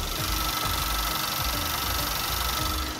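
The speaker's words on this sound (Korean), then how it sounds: "영상으로 엔진 소음 한번 담아보도록 하겠습니다" A gasoline car engine idles steadily up close with the hood open, a smooth continuous hum with a faint rhythmic low pulse and no voices.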